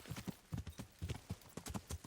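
Horse hooves clip-clop in Kingdom Come: Deliverance, a steady run of sharp, fairly close hoof strikes at a walking-to-trotting rhythm, heard alone.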